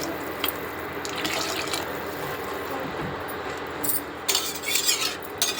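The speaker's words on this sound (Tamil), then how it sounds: "தண்ணி ஊற்றுறோம்" Water poured into a pot of green field-bean sambar on the stove, a steady splashing wash with brief louder gushes near the end, close by and heard alone.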